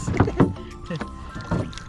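A small fishing boat's engine runs off Calbayog, sputtering in uneven chugging bursts that rise and fall close by, with no voices over it.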